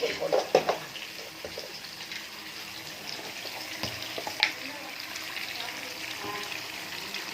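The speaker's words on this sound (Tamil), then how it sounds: "பருப்புக்கு தாளிக்கிறேன். கடுகு, வெங்காயம், போட்டு தாளிக்கிறேன்." Mustard seeds and onion fry in hot oil for a dal tempering. A steady soft sizzle runs throughout, with a few sharp pops and crackles near the start and scattered clinks of a stirring spoon.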